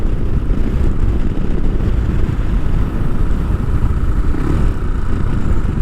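Royal Enfield Himalayan fitted with a big bore kit, ridden on the road: a steady, loud low engine rumble mixed with wind buffeting, continuous throughout without talk.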